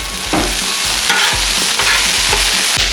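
Turkey burgers sizzle in oil on a Blackstone griddle, a loud, close, continuous frying hiss with faint scraping pulses and no talk.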